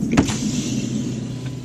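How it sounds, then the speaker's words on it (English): A car's electric power window rolls down, a short whirring motor hum starting with a soft thunk and running steadily inside the cabin. "Roll your window down."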